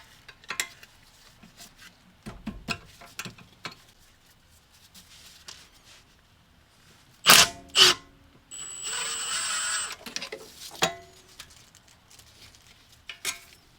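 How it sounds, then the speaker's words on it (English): A wrench works off the 13mm caliper nuts on an Audi B5 S4 rear brake, with scattered metallic clicks and ratchet taps, a couple of sharp clanks, and a short grinding burst of turning, close and quiet between. "Now we'll go ahead and remove the two 13mm nuts, one here, one here."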